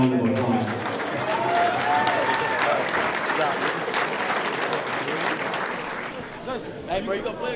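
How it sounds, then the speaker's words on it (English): Audience applause for a group of seniors at a high school signing day, a continuous wash of clapping with some voices and cheering mixed in throughout. "Please give them one more round of applause."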